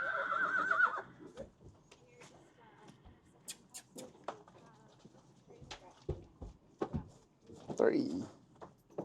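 Horses being unloaded at an intake whinny loudly at the start and again near the end. Soft shuffling and faint hoof sounds fill the gaps between calls.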